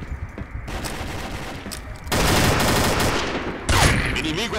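Gunfire in a competitive online shooter match: dense rapid bursts of automatic fire with loud, harsh blasts that shift in intensity, some heavier volleys midway and near the end, with no talking over it.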